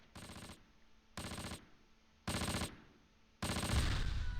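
Machine gun fire in the WWII tactics game Close Combat: four separate sustained bursts of rapid automatic fire, each about half a second to a second long with short pauses between them, the last burst the loudest, with no talking.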